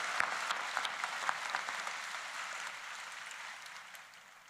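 Round of applause from a university convocation ceremony audience honoring guests, marshals and gonfalon bearers, fairly faint and distant, with a few sharper claps early before fading gradually.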